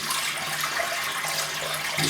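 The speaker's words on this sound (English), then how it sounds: "I'm just going to wet the brush" Running water from a tap wetting a synthetic shaving brush, a steady close hiss and splash with no pauses and no speech.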